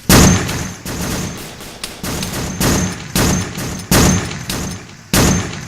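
Mounted front gun on an Arma 3 patrol boat fires at night in repeated short bursts, each a loud, close, heavy thud-and-crack with brief pauses in between.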